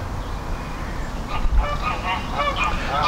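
Geese honking outdoors, a flock calling in repeated overlapping honks that build over a few seconds above a steady low rumble of wind or background noise.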